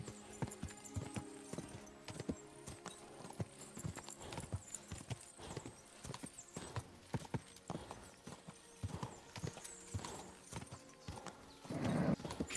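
Horse hooves clip-clopping on a path in the medieval game Kingdom Come: Deliverance II, a steady rhythmic trot of close hoofbeats throughout, with a louder rustle near the end.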